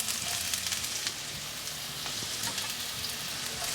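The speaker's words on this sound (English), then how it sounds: "let's get the onions in." Sliced onions hit hot olive oil in a Ninja Foodi Smart XL Grill wok over high heat, giving a steady, close, loud hiss of frying that runs unbroken throughout.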